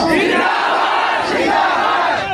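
A large crowd at a Muslim community gathering roars religious slogans in unison, a loud, continuous massed chant that swells and repeats in waves.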